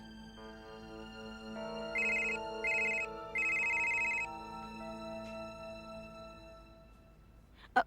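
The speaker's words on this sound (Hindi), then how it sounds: "फुहद भाई का फोन।" A telephone ringtone chimes in three short repeated bursts over a steady tonal background, with a brief click near the end.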